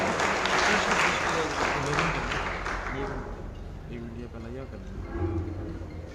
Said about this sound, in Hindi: जोरदार तालियां श्रीमान गोपीराम जी साहब।